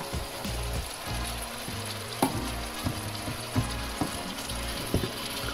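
Onions and peppers fry in a pan for a bolognese sauce, a steady loud sizzle with a few clinks and bumps as they go in and settle.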